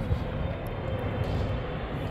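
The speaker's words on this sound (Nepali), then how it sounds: "छिनछिनमै आउँछ प्लेन पनि यार" An airplane passes overhead as a steady, broad low roar that holds at an even level throughout, with no voices over it.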